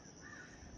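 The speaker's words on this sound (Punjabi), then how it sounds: "ਪੰਛੀਆਂ ਦੀਆਂ ਆਵਾਜ਼ਾਂ ਆਉਂਦੀਆਂ ਨੇ" A brief, faint bird call, crow-like and distant, rises over a quiet outdoor background in a garden at Dera Baba Banda Bahadur, Reasi.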